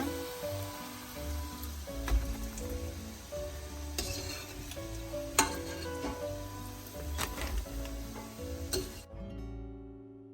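Green gram susiyam dumplings frying in oil over medium heat, a steady close crackling sizzle with occasional stirring scrapes and clinks, no voices.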